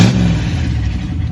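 A car engine with open headers and no exhaust revs loudly up close, a brief raw, throaty blast that settles into a rough, rumbling idle with no voices.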